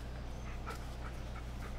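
A dog whimpers and pants softly, faint short breathy whines over a low steady hum in a quiet outdoor setting of a Blair Witch game.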